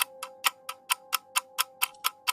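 Wall clock ticking steadily at about five ticks a second, each tick a sharp, bright click over a faint steady hum, close and alone with no voices.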